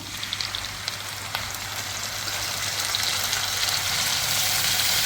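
Large onions and ground tomato sauté in hot oil for a crab fry, giving a dense, even sizzle with a low steady hum beneath and a few soft stirring knocks, no talking.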